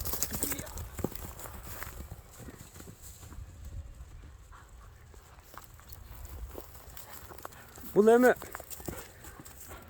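Hooves of a Kara-bair horse walking, a loose clip-clop of steps under ongoing talk, with a short tonal call near the end.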